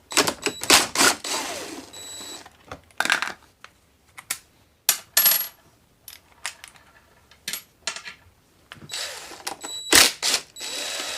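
Hand socket tool, an 8mm socket, backing out the carburetor cover bolts on a Predator 2500 generator, heard as sharp close metallic clicks and ratcheting bursts scattered between short quiet gaps.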